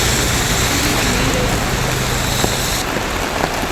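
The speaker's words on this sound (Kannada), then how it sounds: "ಮಳೆ ಇಷ್ಟು ಬರ್ತೈತೆ" Heavy rain pours down outdoors as a loud, dense, steady hiss that fills the whole moment without a break.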